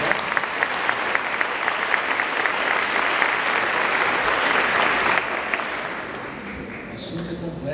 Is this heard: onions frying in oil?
no